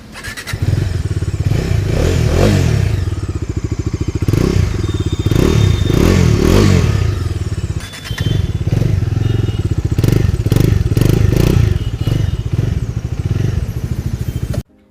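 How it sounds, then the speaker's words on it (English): A Bajaj Dominar 250 motorcycle engine revving repeatedly, its exhaust note rising and falling in loud, throaty bursts, close by with a brief dip midway. "The exhaust notes on both of these bikes sound really sweet."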